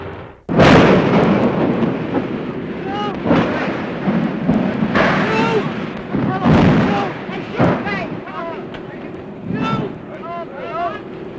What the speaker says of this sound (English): the actual crash of the Hindenburg, an airship destroyed in less than half a minute